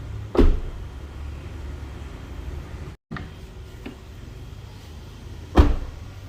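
A Honda BR-V car door with newly installed sound deadening shuts with a solid, muffled thud, closed gently, followed later by a second dull slam, with quiet background hum between.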